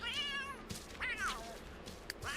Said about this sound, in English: Why am I hearing a cat screeching?